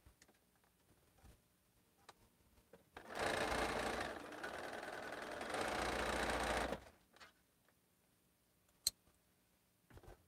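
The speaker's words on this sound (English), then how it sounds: "Sew this little four patch unit, and then I can press the block." Sewing machine stitching a small four-patch quilt unit, a steady whirring run of about four seconds that starts and stops cleanly in an otherwise quiet room.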